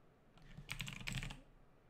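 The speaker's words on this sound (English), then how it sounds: "type in your user password" Keys on a computer keyboard are tapped in a quick burst while a password goes in during a macOS High Sierra install, a close, fairly quiet clatter of about a second with no voices.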